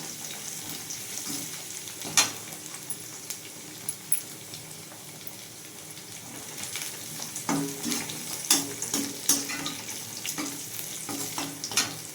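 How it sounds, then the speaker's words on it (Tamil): Crushed garlic frying in hot oil with cumin, pepper and urad dal for a sundakkai kuzhambu, giving a steady close sizzle with scattered sharp pops and spoon scrapes against the pan, with no talking. "பூண்டு கொஞ்சம் வதங்கட்டும்"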